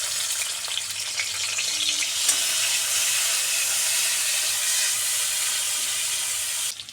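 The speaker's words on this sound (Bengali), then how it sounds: "পেঁয়াজটা এবার ভাজছে।" Onion frying in oil in a pan while making pasta, a steady loud sizzle and hiss that holds evenly for about seven seconds, then cuts off abruptly at the end.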